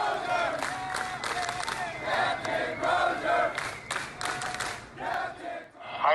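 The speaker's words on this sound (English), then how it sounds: "a reference to viral video of spontaneous cheering as Crozier disembarked the ship" An aircraft carrier crew cheers and shouts as their ousted captain leaves the ship, a large crowd roaring in repeated swelling waves of yells and whoops, loud and continuous throughout.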